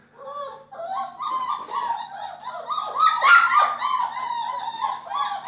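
A dog whimpers and yips in a long run of high, whiny cries, close and fairly loud, rising in intensity midway with brief barks mixed in.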